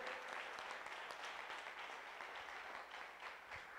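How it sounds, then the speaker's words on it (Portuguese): A congregation applauds during a church service, a quiet but continuous blur of many hands clapping together that holds steady throughout with no speech on top. "Aplauda o Senhor."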